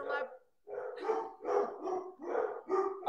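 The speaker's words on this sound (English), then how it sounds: "Sorry, babies are barking." Dogs bark close by in a quick series of about six loud barks, some with a yelping edge, separated by short pauses, with no voices over them.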